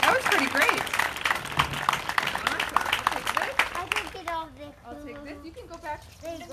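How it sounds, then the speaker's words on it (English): A congregation at a worship service claps for volunteers in a lively burst lasting a few seconds, then the clapping gives way to voices and chatter, including children. "can we clap for these guys that came up?"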